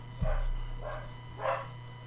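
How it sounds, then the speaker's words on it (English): Dogs barking in another room of a house, three short muffled barks spaced across a couple of seconds over a steady low hum, fairly distant and not loud. "Sorry if you can hear my dogs."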